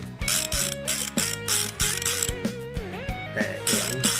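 A cleaned Madox baitcasting fishing reel is cranked up close, giving a rapid mechanical ratcheting and whirring of gears with metallic ringing overtones. The sound rises and falls in bursts as the handle turns, with no talking.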